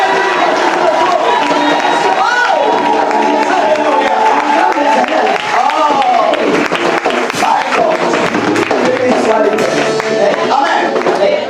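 A church congregation cheers and shouts loudly to acclaim the Lord during a consecration service, a dense, continuous roar of voices with scattered clapping that holds steady throughout.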